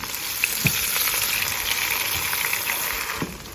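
A Thai omelette made with fermented fish sauce fries in a hot pan with a steady, close, loud sizzle and occasional sharp pops and spatters, with no one speaking.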